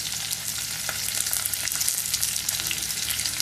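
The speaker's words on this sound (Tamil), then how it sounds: "வெங்காயம் கொஞ்சம் அதிகமாக நல்லா வதக்கிக்கலாம்." Long-sliced onions frying in a pan for a butter bean and coconut milk pulao, a steady dense sizzle with a few light scraping sounds and no voices.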